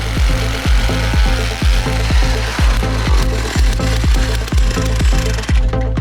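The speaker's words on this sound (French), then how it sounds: "C'est à l'aide d'une tarière que plusieurs trous sont percés dans le lac gelé." An ice auger bores holes into a frozen lake in Quebec, giving a loud, close, rhythmic chugging engine pulse with regular heavy knocks about twice per second, steady throughout.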